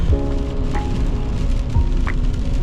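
Steady rain pours down around a propane fire chimney burning outdoors along the Alaska Highway, a dense continuous patter with a low hum beneath it, no speech.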